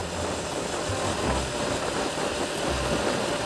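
A Honda RS motorcycle engine drones steadily nearby on a Malaysian road, a continuous low rumbling hum with slight throbbing, fairly loud and without talk.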